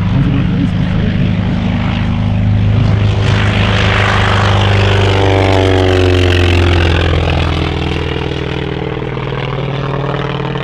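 A 1950s Provost warbird propeller plane drones loudly past at an airshow, its engine tone sweeping and shifting as it passes, with an announcer talking over the roar.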